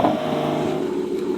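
Porsche Cayman fitted with a high-pitched aftermarket exhaust, revving with a steady, loud, near engine note that holds strong harmonics through the short burst.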